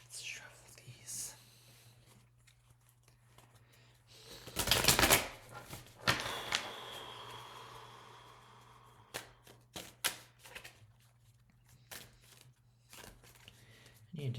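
A deck of tarot cards is shuffled in a brief, crisp riffling burst, followed by softer flicks and taps, all close and quiet with a low whispering voice around them.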